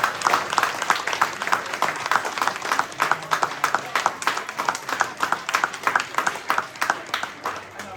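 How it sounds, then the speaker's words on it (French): Audience at a Vaud political event applauds, giving a dense run of steady clapping that continues throughout at moderate loudness, with some voices mixed in beneath. "je crois qu'on peut tous s'applaudir pour toute l'activité qu'on a donnée dans notre contexte"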